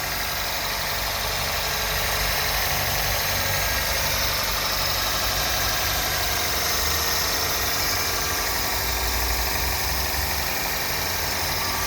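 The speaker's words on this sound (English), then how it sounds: "the engine seems to be running good." A 2001 Toyota Corolla CE's 1.8L MPI DOHC engine idles steadily up close, with an even rumble and a faint rhythmic knock that never changes for the whole stretch.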